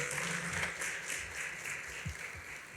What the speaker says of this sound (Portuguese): Se você pode, aplauda a Bíblia aí e dá um beijo na sua Bíblia.